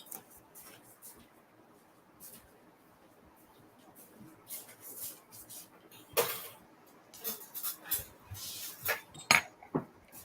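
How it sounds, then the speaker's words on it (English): Pots, pans and cutlery clink and clatter in a home kitchen as someone turns off boiling eggs, scattered sharp knocks that grow busier toward the end over a quiet background. "Give me just a minute because I need to go turn off Mater's eggs"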